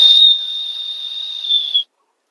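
A person whistles to call goats on a farm, one long, steady, shrill tone held for nearly two seconds before it cuts off abruptly, loud and close.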